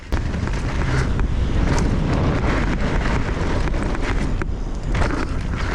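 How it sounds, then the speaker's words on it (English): Gusting wind buffets the microphone in a constant loud rumble, with scattered rattling bumps underneath and no voices. "A little windy, but not too bad."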